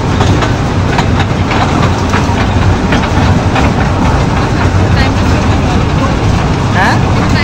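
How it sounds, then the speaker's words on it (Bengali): A small amusement-park train runs past, its rumble and clickety-clack loud and close under steady wind noise, with people talking over it. "এই যে দেখেন ট্রেনটা যাচ্ছে।"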